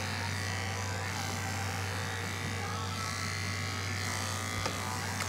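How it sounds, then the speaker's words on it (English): Electric clippers run steadily while trimming the long fur of an English Angora rabbit, a close, continuous motor hum with slight changes as the blades work through the coat, and a person talking over it. "you may need to hold it up a tad to get the clippers to go through it"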